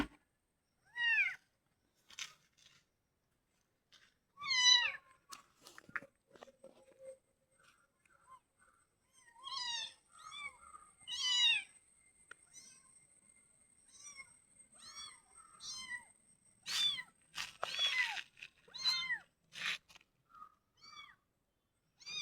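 Cats of a breed resembling a wild cat meow repeatedly at close range in short, rising calls, some overlapping, with quiet pauses between bursts.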